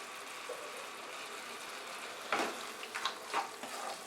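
Chicken keema with garam masala and ground black pepper frying in a pan, a soft, faint sizzle with a few louder scraping stirs near the end, no voices.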